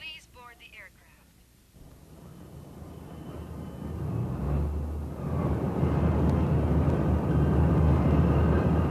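An airliner carrying a group on a special flight to New York drones in flight, a low broadband engine rumble that swells louder partway through and then holds steady, after a few seconds of faint voices.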